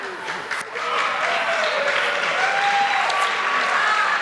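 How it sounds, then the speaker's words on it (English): A crowd at a chamber of commerce morning coffee gathering bursts into sustained applause that swells after a brief quieter start and holds steady, dense and fairly loud. "The crowd erupts."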